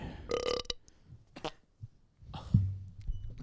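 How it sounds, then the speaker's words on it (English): Two loud, deep burps erupt close up, one early and one later, separated by small rustles and mouth sounds, with no talking. "Speaking of burping"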